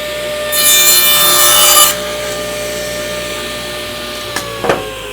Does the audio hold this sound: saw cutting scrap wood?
yes